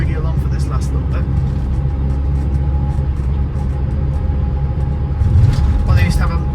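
A car drives along a road into Southwell, its steady low engine and tyre rumble running throughout, with a slight swell near the end and speech over it.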